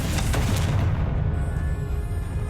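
A Confringo blasting spell exploding in the Hogwarts Legacy video game: a heavy, booming blast with a rumbling low-end tail that slowly fades, loud and close, with no speech.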